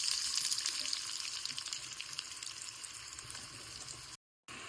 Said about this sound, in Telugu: అవన్నీ ఫ్రై చేస్తున్నాను, డీప్ ఫ్రై.